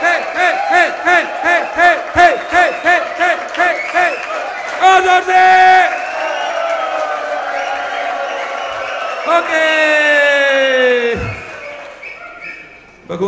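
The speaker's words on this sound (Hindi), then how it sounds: "खड़े हो जाइए पूरे जोर से, ताली बजाते हुए, विसलिंग करते हुए," Audience at a live motivational event cheers, whistles and hoots, starting with rhythmic clapping and shouts, then swelling into a loud sustained roar of voices and whistles that fades near the end.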